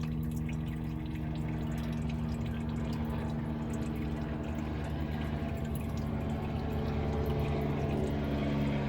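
Motor oil drains from a car into a bucket during an oil change, a steady, continuous liquid trickle and splatter over a low, constant hum, holding at an even level throughout with no talking.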